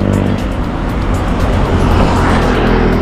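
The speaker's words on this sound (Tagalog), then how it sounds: "matami-dami dumadaan ang mga sasakyan" Cars pass loudly and close by on a steep 6% gradient road climbing a hill near San Pablo, Laguna, with a continuous rushing roar of traffic and no talk.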